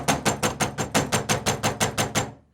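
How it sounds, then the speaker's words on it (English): Someone bangs hard on a door: about eleven evenly spaced, loud heavy knocks in a fast steady rhythm, close by, stopping abruptly at the end with no talk. "stop banging on my door"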